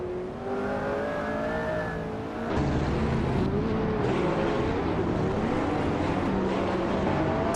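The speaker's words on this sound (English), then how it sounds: "Dale Earnhardt is driving a 2015 Koenigsegg, a Jera RS" Engine of a 2015 Koenigsegg Agera RS in a video game race, a loud continuous high-revving roar with shifting pitch that grows fuller partway through as the car holds pace among other racers.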